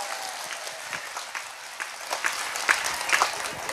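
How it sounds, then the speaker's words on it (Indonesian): Live audience at an Indonesian religious lecture clapping in applause, a loose crackle of many hands that swells and peaks toward the end, heard without speech over it. "Tepuk tangan dulu dong."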